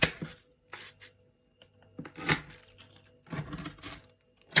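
Crisp, crunchy snaps of baked shortbread jam cookies being broken or bitten, coming in a few separate bursts with brief quiet gaps between them, close up.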